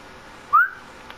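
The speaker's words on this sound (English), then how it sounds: "That's how you whistle." A character in The Last of Us gives one short, rising whistle, a clear single chirp that is near and fairly loud against near silence.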